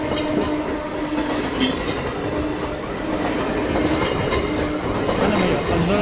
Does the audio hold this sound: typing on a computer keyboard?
no